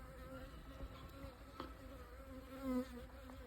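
Honeybees buzzing around an open hive built from styrofoam, a faint continuous droning hum with occasional closer passes by individual bees.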